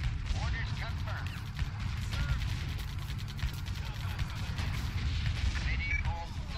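Battle gunfire and distant artillery booms rumble continuously in the WWII strategy game Blitzkrieg Rolling Thunder, a dense, steady barrage with scattered sharp cracks and faint voices mixed in.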